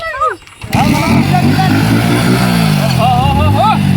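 A motorbike engine roars at speed after a brief quieter moment, loud and close and holding a strong continuous drone, with people talking and calling out over it.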